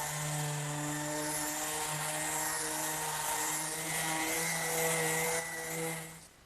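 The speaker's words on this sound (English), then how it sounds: "there's nothing like a palm sander to finish it off" Palm sander finishing a wooden bedside tabletop, a steady close whirring drone with a grinding buzz that holds for several seconds and then winds down, with no talk.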